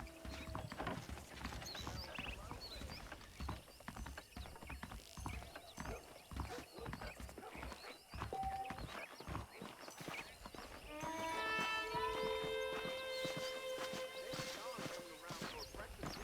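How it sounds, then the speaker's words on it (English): A horse's hooves clip-clop in a steady rhythm beneath a voice talking in the Red Dead Redemption video game, with a musical score swelling in later on. "Okay, let's see if you can still ride a horse."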